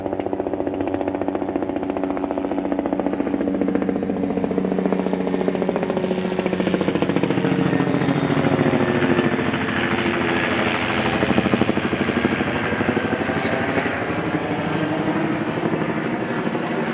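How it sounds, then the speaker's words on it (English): Helicopter flying over a Memorial Day tribute at a cemetery, a loud steady rotor drone with rhythmic blade chop that builds and holds throughout, no voices over it. "As you can probably hear, the helicopter flyover is on its way."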